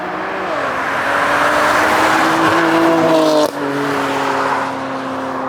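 A BMW M4 with an S55 engine and a loud aftermarket exhaust roars past close by, its engine note rising and shifting through gears with a brief dip before pulling away again.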